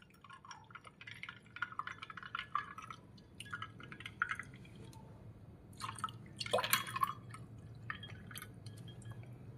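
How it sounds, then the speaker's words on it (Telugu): Water poured into a cup of lemon juice makes a bright, splashing, dripping stream that swells and fades in bursts, close and fairly loud, with no voices. "కప్ నిండా వాటర్ పోసుకుందాం."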